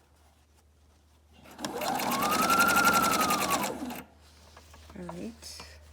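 Sewing machine stitches a Bible cover in a fast, steady mechanical whir lasting a couple of seconds, close by, followed by a brief spoken word.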